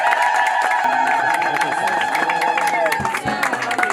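A large audience claps and cheers together at a religious gathering, dense sustained applause filling the space alongside crowd voices and a lead voice urging them on.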